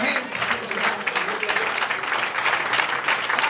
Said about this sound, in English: Somebody clap their hands.